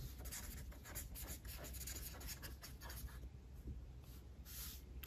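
Writing on a board during a math lesson gives close, continuous scratchy strokes in a steady flowing rhythm, alone without speech.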